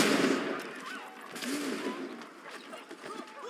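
Gunshots in the video game Assassin's Creed 3, a few short bursts of fire at moderate loudness mixed with game sounds and a voice.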